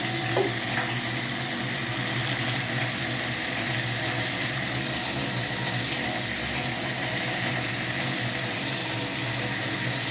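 An open tap runs without a break while hands are washed, a loud, constant broadband rush of water close by, with no talking.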